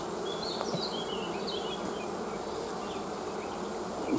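A steady, dense buzz of many honey bees at a hive entrance close by, continuous and even throughout with no voices.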